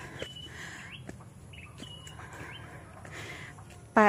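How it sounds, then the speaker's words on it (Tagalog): Brief, scattered bird chirps and whistles at a moderate distance over steady low outdoor background noise, ending with a sudden louder burst. "maririnig niyo yung huni ng ibon"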